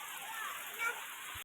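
Heavy rain pours in a steady, even hiss around a house in Odisha where water is coming in. The sound is fairly faint and continuous, with no clear voices.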